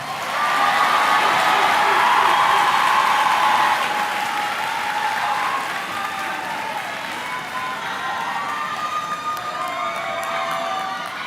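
At a 2025 high school graduation ceremony, a large audience gives loud, sustained applause with cheers and whoops for the graduating students. The applause swells early, then holds steady for about eleven seconds.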